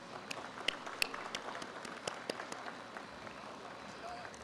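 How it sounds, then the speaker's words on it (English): Scattered audience applause at a design reveal ceremony, faint and thin with a few sharper individual claps standing out over a low murmur of the crowd. "let's give it a round of applause"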